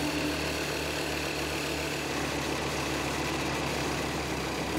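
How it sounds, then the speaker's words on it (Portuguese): A Formula 1 car engine idles in a steady, rough low rumble with a buzzy drone, continuous and close, with no voices. "Quando o motor dá a partida, ele fica em marcha lenta."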